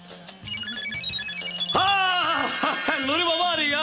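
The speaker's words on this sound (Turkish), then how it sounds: "Telefon, telefon." A telephone ringtone chimes in a repeating melodic pattern indoors in a Turkish TV series scene, loud and close, then a voice talks over its continuing rings.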